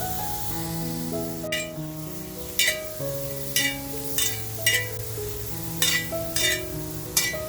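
Dried shrimp roasting with cumin in a hot pan gives a steady soft sizzle, with a sharp clink or scrape every second or so as they are stirred, over a background of music.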